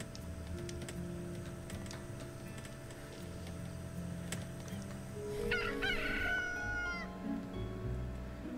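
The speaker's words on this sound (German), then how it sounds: "So, der Hahn hat gekräht und die Sonne geht wieder auf." Rooster crowing in the Stonehearth video game at sunrise, one rising and falling crow midway through a busy, steady bed of game ambience and music, moderately loud and without talk.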